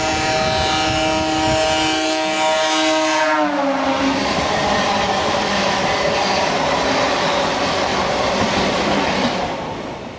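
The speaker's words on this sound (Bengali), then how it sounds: "তো দেখো এখন ঢুকছে বালেশ্বর হাওড়া মেমো প্যাসেঞ্জার" A Balasore–Howrah MEMU passenger train pulls into a station, its horn sounding with steady harmonic tones for the first few seconds before giving way to loud, continuous rumbling and clattering of the carriages rolling past close by.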